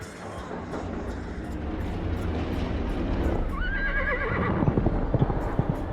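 A horse whinnies loudly in the Argonus and the Gods of Stone video game, a rising, wavering neigh over steady rumbling ambience, followed by close, heavy hoof clops toward the end.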